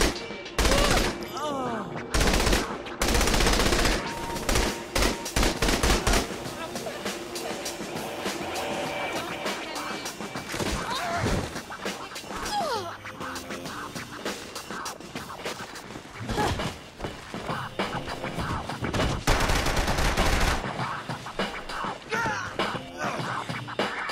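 Shotgun gunfire in Saints Row 3 during a bank robbery, loud repeated blasts in irregular bursts mixed with other game noise and occasional speech.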